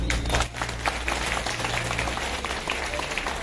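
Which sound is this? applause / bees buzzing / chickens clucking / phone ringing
applause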